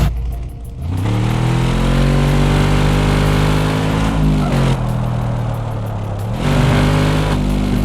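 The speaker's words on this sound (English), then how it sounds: "there's no way that V6 sounds like that" A Ford Taurus V6 engine in the video game Car Mechanic Simulator 2026 revs loud and close, climbing and falling through several long pulls in a steady, buzzy drone.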